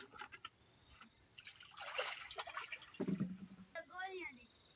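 Water splashes and trickles while an air cooler is washed, with pouring and dripping bursts at close range and a voice speaking faintly over part of it.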